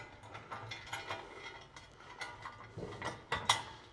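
Steady ratchet clicking, close and fairly quiet, comes in quick runs as bolts are driven up through the bottom for a Fab Fours rear bumper on a Jeep Gladiator, with no talking.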